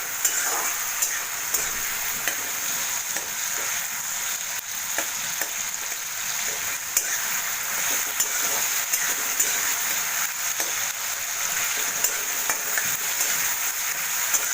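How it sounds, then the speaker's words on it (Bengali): Onions and green chilies sizzle steadily in hot oil in a pan on a gas flame while being stirred, a dense continuous frying hiss with soft scraping clicks throughout, close and fairly loud, no talking. "পেঁয়াজ আর কাঁচা লঙ্কাটাকে কিছুটাকে একটু নাড়াচাড়া করে নেবে"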